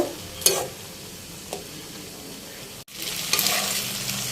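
Noodles cook in a pan with a soft continuous sizzle, broken by a few scraping stirs and a brief cutout before the frying noise swells louder.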